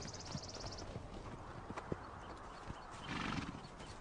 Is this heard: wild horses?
yes